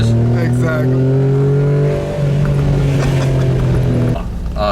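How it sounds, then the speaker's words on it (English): A Nissan 240SX, Laguna Seca Blue, revving steadily with rev-matched downshifts, its engine drone loud and continuous with pitch shifts partway through, while people talk over it. "the rev match downshifts on this thing, Fantastic"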